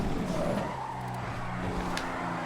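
A car in the GTA FiveM driving game, loosely a rally car, revs and skids with squealing tires on an off-road course, engine drone steady and close throughout.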